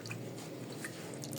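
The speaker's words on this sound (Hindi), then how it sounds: "पानी थोड़ा सा इसमें डालो।" A small amount of water is poured into a bowl of salt while making pani puri, a faint, brief trickle and drip close by in an otherwise quiet kitchen.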